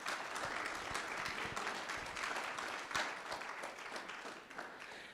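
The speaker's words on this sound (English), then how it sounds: "I just want to give you guys a round of applause" Sustained applause from the audience at a guide dog graduation ceremony, a steady dense wash of many hands clapping that carries on evenly throughout with no voices over it.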